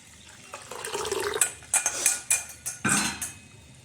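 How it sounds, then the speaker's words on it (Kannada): Two cups of water poured into rice flour in a kitchen vessel while making pressed rice noodles, heard as a brief splashing pour mixed with close, sharp clinks and knocks of utensils against the pot, with no talking. "ಅದೇ ಸಮ 2 ಕಪ್ ಹಿಟ್ಟಿಗೆ 2 ಕಪ್ ನೀರು ಹಾಕ್ಕೊಳ್ತೀನಿ ಇದರೊಳಗಡೆ."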